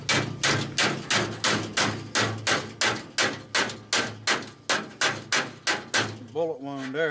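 A steady series of loud, sharp metallic blows from a big hammer, about two per second, ringing near and alone on a 1929 Ford roadster pickup, stopping at the end before a brief voice.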